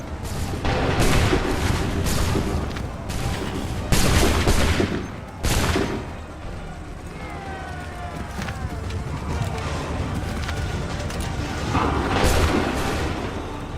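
A volley of musket fire in Assassin's Creed 3, with several loud, overlapping booming shots in quick bursts followed by rolling battlefield noise.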